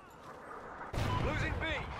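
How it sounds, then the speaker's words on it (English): A friendly Trinity rocket strike hits in a video game match: a sudden loud explosive blast with rumbling debris and whistling, whooshing tones, following a quieter stretch of game ambience. "Friendly Trinity rocket inbound."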